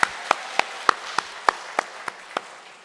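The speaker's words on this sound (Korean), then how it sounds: "우리 박수하겠습니다." Slow, evenly spaced claps from a church congregation during a Sunday service, about ten distinct beats in unison with a clear resonant snap, loud and close, with no talk over them.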